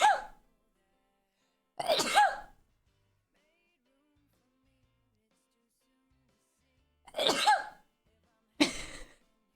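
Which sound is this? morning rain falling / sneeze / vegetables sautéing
sneeze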